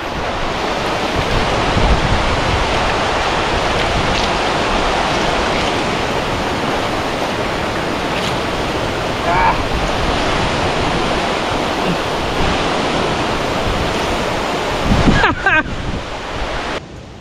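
Pityak Falls, a waterfall in Sibonga, gives a steady broadband rushing roar that fills the whole stretch without pause, with a short louder surge near the end.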